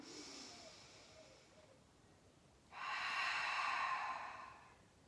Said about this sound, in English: Breathing into the sides and back of the rib cage, using the abdominals to expel all the air